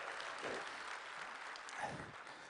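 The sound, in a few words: audience clapping for Larry and John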